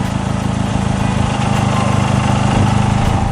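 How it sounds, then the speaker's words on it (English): A Mazda Miata on stiffer drivetrain mounts idles with a dense, steady rattling buzz that carries a constant low engine throb and vibration noise throughout. "that's just the rattle from putting the stiffer mounts on there"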